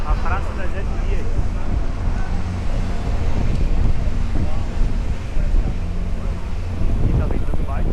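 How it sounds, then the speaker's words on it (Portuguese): Strong wind buffets the microphone at an outdoor Christmas village plaza in Gramado, Rio Grande do Sul, a steady loud rumble lasting throughout. "E tá ventando bastante, pessoal."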